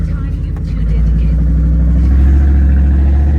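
A Ford OBS truck engine with a newly installed fuel pump runs loud and close, a steady low rumble that swells slightly as it settles into a continuous drone.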